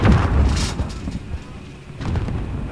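Gunfire in a video game, a few heavy booming shots up close that blend into a rumbling low wash, with brief talk among the players over it.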